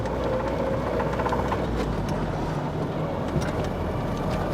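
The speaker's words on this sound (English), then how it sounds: "you can hear that knock, just that little bit of rattle there" A running 1970s Land Rover engine with a low, uneven knock and light metallic rattle, steady and close, with broadband mechanical noise throughout.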